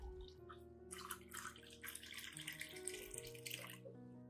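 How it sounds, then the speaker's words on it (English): Clean water pours steadily into a cup that already holds a tablespoon of rice, giving a continuous close splashing and trickling that runs for about four seconds and stops near the end, with a faint tonal hum underneath. "pour 500 milliliters of clean water into the cup"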